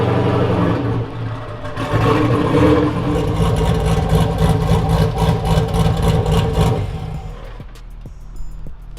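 A manual Dodge Charger Hellcat sits on an alignment rack and revs from outside, a loud, rumbling V8 with rhythmic pulsing chop that holds steady, then drops away near the end.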